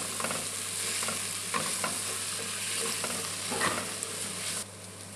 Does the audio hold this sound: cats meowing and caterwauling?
no